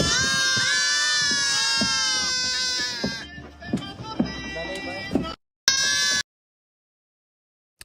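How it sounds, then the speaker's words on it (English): A large herd of goats bleating and crying at once: loud, dense, overlapping high wavering calls fill the first few seconds, then thinner scattered bleats follow before an abrupt cut to silence. "We do not have that many goats. We're not going to get that many goats. I could not deal with that kind of noise."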